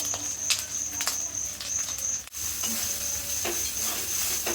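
Ground coriander, cumin, Kashmiri chilli, garam masala and turmeric frying with ginger garlic in oil for a fish curry, a loud steady sizzle with repeated scraping stirs, close, no talk.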